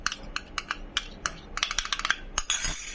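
A soap mixture of lye, oils and kojic acid powder is stirred in a container, producing a quick series of light clinks and taps of a utensil against the side, close and fairly bright.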